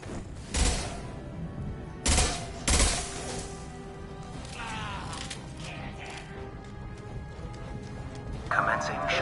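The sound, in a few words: gunfire in the video game Mass Effect 2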